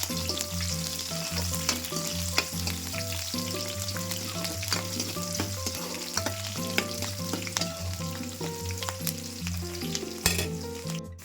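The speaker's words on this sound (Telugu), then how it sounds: "ఆనియన్స్ వేసుకొని ఒకసారి మొత్తం బాగా ఫ్రై చేసుకోండి" Chopped onions fry in a pan with potatoes and broad beans, a steady, close sizzle with occasional stirring, continuous and fairly loud for the whole stretch with no talking.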